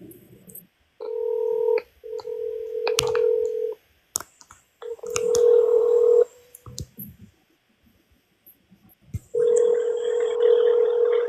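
A phone dials out to a convenience store in Verdun: close, loud keypad tones and a steady dial tone come in bursts, separated by clicks and short silences.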